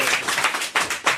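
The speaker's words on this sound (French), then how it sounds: "il fait peut-être exprès d'arriver en retard pour qu'on l'applaudisse comme ça" A television studio audience claps for a guest arriving late, a short burst of steady applause with a few rhythmic swells and no talking.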